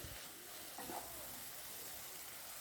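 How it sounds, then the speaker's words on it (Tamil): Onions frying with salt for chicken gravy are stirred in a pan, producing a faint, soft sizzle and a brief scrape. "நல்லா இப்போ கிளறி விட்டு"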